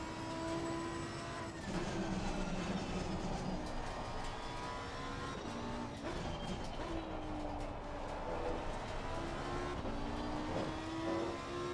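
Lamborghini Huracan GT3 Evo 2 race car engine in a racing game, a loud sustained roar climbing and dropping through gear changes on track, continuous throughout with no talk.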